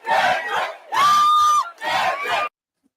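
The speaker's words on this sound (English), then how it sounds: "Listen to the crowd." A crowd roars and cheers for a returning rapper in three loud, close bursts, with a sustained whistle-like cry in the middle one before the noise cuts off.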